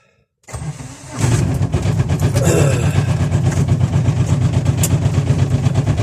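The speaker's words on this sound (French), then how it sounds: "On va avancer le camion un peu, rattacher la remorque au camion." A truck's engine starts with a short crank, catches, and settles into a loud, steady diesel idle with a rhythmic mechanical throb as it prepares to move forward to hitch a trailer; no one speaks.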